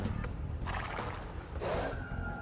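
A horse neighs in two bursts in the video game Age of Empires II: The Age of Kings, a short whinny followed by a longer one, close and clear against a low background hum.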